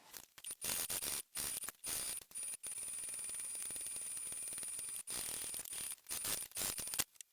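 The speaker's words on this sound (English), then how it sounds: "I'm going to sew all the way around the perimeter of this overlay to attach it to the main panel piece" A sewing machine stitches around the perimeter of an overlay on a handbag panel with a long stitch length, running in short bursts and one longer steady stretch, close and fairly quiet, with no talking.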